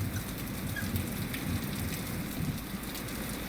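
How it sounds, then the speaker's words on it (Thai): Steady rain falling, a soft, continuous hiss of drops with occasional faint patters, fairly quiet and unbroken, no voices. "ฝนตก"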